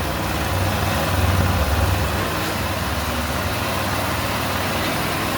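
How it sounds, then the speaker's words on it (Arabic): A scooter engine idles steadily after a half overhaul, a continuous low rumble with a slight swell early on, running alone with no talk and no other sounds. "الموتور واقف صلانسيه"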